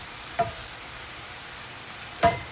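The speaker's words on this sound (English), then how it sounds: "So I'm just going to saute that a little bit so that things are cooked down nice" Kale sautes in a pot under a soft, steady sizzle, with two brief spoon knocks of stirring about two seconds apart. The sound stays quiet throughout and no one speaks.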